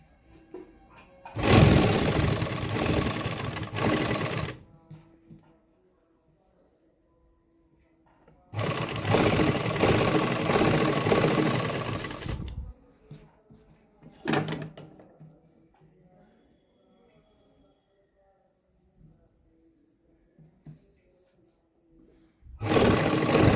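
A sewing machine stitching piping along a crease on a garment, running in loud bursts of rapid whirring stitches separated by quiet pauses, with one short burst in the middle and another starting at the end.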